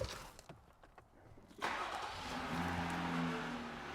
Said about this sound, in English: Okay, now to activate the SPod, I have to start the vehicle. The vehicle is now running.